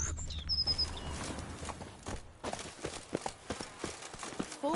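Roach the horse's hooves clip-clop in The Witcher 3, a steady walking rhythm of close, distinct hoof strikes over soft ambient game sound.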